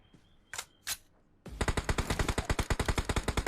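Rapid automatic gunfire in a battle royale video game: a few faint isolated shots, then a fast, loud, evenly spaced burst of rounds.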